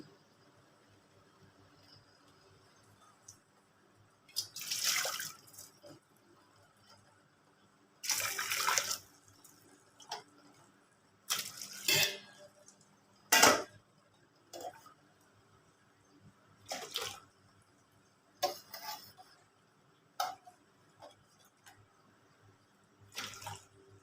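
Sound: scooping water out with a glass

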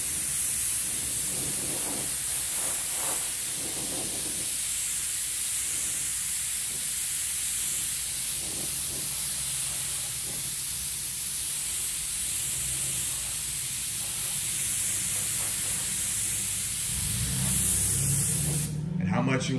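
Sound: paint gun spraying intercoat for galaxy paint job

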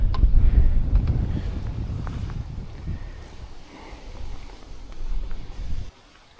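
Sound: wind

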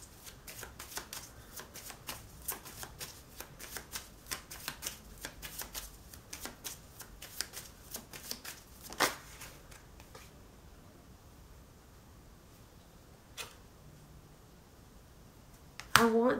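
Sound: shuffling tarot cards

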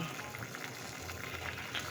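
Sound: fish stew boiling in a pot

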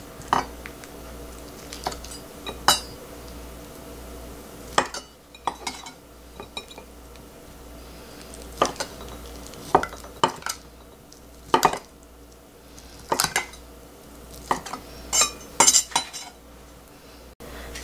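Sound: knife cutting fresh conch into bite-size pieces

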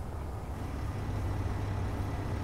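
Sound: engine running in the video game Space Engineers

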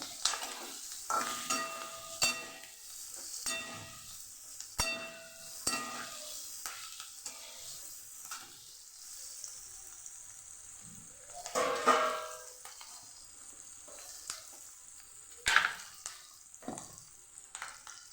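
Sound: green chilies sautéing in pan

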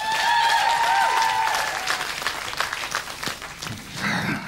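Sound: audience applause

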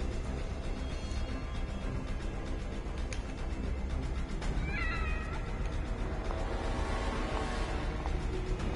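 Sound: cat meowing in video game The Evil Within

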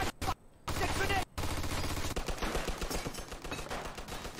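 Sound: machine gun fire in video game Mafia 2

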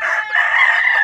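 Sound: rooster crowing

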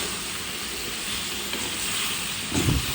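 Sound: stir-frying sweet pumpkin in spices

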